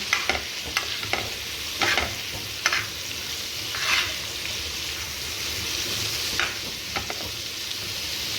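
Vada fish frying in a pan while being flipped to crisp, Agri style, with a steady sizzle broken by several sharp scraping and flipping clatters spread across the clip, close and fairly loud, no talking.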